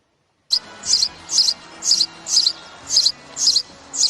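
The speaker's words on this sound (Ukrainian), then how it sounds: "Послухайте, як співає горобчик." A sparrow chirps in a steady series of short, high bursts, about eight of them at an even pace, close and clear over a quiet background.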